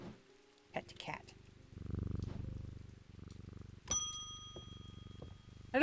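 A cat purrs as it is petted in the video game Strange Antiquities: a soft, low rumble runs through most of the clip and pauses briefly, with chime-like game tones partway through and again at the end.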